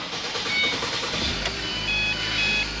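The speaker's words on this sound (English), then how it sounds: "Restarting the engine." A 2013 Ford Transit engine restarts: a brief sharp crank transient sounds partway through, then a low engine rumble settles in. Faint high electronic beeps come and go in the background.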